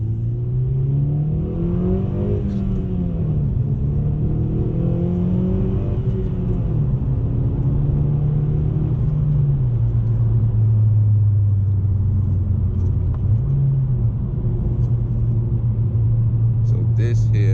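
A 2017 Honda Accord drives along with a steady close engine drone that rises and dips as it revs, continuous throughout with no talk.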